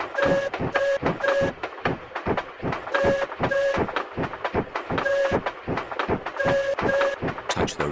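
A train in a Peppa Pig video game runs with a steady rhythmic clatter, and a repeating two-tone electronic beep pattern plays over it throughout.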